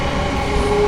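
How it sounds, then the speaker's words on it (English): Loud train rumbling close by with a sustained droning roar and a steady high whine through the whole short moment, no voices over it. "that's the train, it's very loud."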